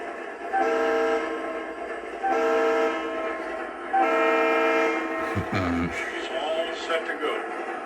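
The whistle horn of a DCS model train sounds in three steady, sustained blasts, loud and close, followed by a brief low thump and faint mechanical noise, with someone speaking briefly.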